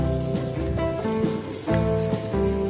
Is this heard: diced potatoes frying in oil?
yes